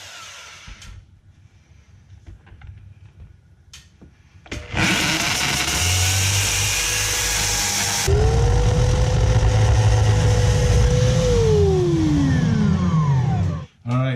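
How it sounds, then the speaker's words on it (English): A power drill with a 1/8 inch bit whirs loudly for several seconds, then bites into material around a basement window with a lower grinding pitch that winds down at the end, after quiet rustling. "I went through with a 1/8 inch drill bit, and I put 4 holes."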